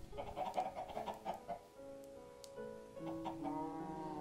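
Minecraft chickens give several quick, close clucks at first, and then a steady game music tone carries on alone.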